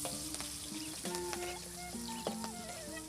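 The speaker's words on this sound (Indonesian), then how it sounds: "Lanjut kita masukin bawang, irisan bawang sama cabai semua buat oseng kangkungnya." Sliced onion and chili stir-frying in dark, well-used oil for water spinach, a steady close sizzle and crackle with scraping stirs and small clinks, outdoors in a garden.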